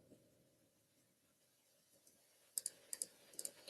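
Calculator keypad tapping during a trigonometry math lesson, a handful of sharp close clicks in quick irregular succession near the end, following a quiet stretch of faint room noise.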